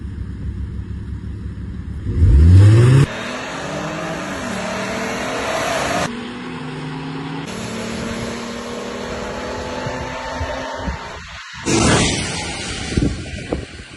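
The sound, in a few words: BMW F30 car accelerating and revving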